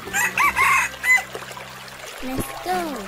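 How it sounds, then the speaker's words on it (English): Cartoon chicken clucking and crowing beside other cartoon animals, a few loud, bright calls in quick succession followed by a rising crow near the end. "Chicken."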